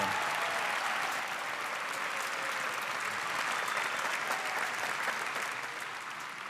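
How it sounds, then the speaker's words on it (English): Sustained applause fills the hall for graduates at the Bethesda-Chevy Chase High School commencement ceremony, a dense, even roar of clapping from a large crowd that continues throughout. "give those guys a round of applause for sure"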